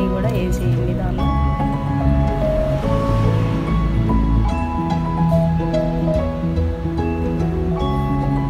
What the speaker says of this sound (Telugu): బాగా మెత్తగా గ్రైండ్ చేసుకోండి